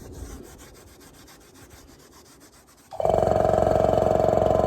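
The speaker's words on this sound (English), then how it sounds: "we've got ourselves a fresh scotch here and some degreaser panel wipe. I'm going to give these a quick blitz over" An Audi TT alloy wheel is scuffed with a scotch pad and degreaser, making quick, close rubbing strokes for about three seconds before a small 25-litre air compressor starts up with a loud, steady hum.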